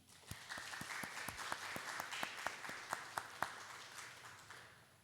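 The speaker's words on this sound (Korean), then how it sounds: "박수 한번 해주시죠." A church congregation applauds during a Sunday worship service, thinning claps with sharp individual hand strikes standing out over a steady patter that fades toward the end.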